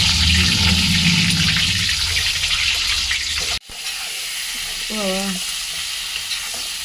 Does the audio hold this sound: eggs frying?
yes